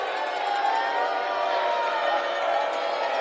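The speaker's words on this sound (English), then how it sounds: "Huge, huge crowd tonight." Large crowd at a high school football rivalry game between the Dunwoody Wildcats and Chamblee Bulldogs, a dense, steady roar of many voices cheering continuously throughout, close and loud with no breaks.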